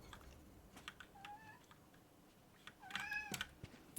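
A cat meows twice near a microphone, a short rising mew then a longer, louder wavering meow, over faint keyboard typing and soft room noise.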